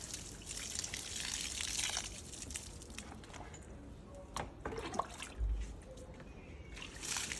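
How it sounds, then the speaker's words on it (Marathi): Water splashes and trickles onto garden soil, with soft drips and gushes; faint and close, no voices. "आपण असं पाणी घालून देऊ"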